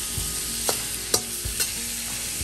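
Bacon stir-fries in a pan, a steady close sizzle broken by a few soft scrapes and taps of the spatula against the pan, with no talk.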